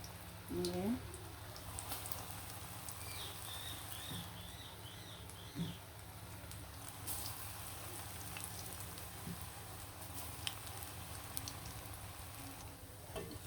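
Onions sizzle in hot oil for peyaju, a faint, steady crackle and hiss running throughout with occasional clinks, under someone speaking Bengali.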